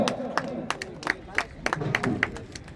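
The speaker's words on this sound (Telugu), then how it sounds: "గట్టిగా చప్పట్లు" Applause and clapping from a crowd at a prize-giving ceremony for winners of a four-teeth bull category competition, a burst of scattered claps with murmuring voices mixed in.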